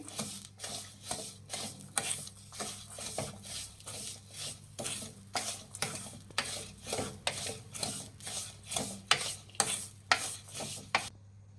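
A spoon stirs finely chopped beans and carrot in a pan for upma, making steady, rhythmic scraping and rubbing strokes about twice a second, close and fairly loud, with a faint low hum beneath and no voices.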